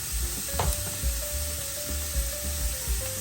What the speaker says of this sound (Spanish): Seguimos revolviendo.